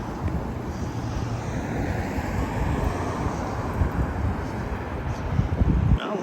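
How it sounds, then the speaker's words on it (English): Steady wind buffeting the microphone during an outdoor walk along a chilly city street in Regina in November, a continuous low rumbling roar that holds throughout and swells slightly near the end. "There's the wind again now that I've turned this direction."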